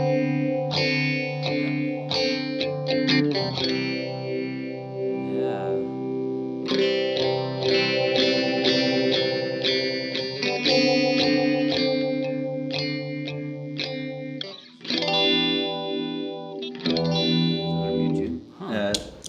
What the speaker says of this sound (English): it's a very musical sounding phaser.